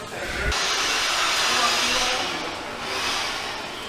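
Compressed air blowing dirt in a tire shop: a loud, steady rushing hiss that begins abruptly, holds strong, dips briefly and then surges again near the end.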